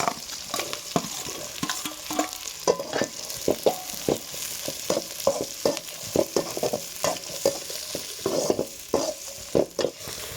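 Onions sizzle in hot oil while a spoon stirs and scrapes the pan in a steady, irregular rhythm, close and clear.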